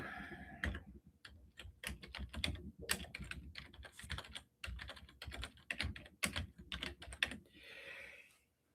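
Quick, close clicking of a computer keyboard as a store name is typed out, in irregular bursts of keystrokes with short pauses and no talking.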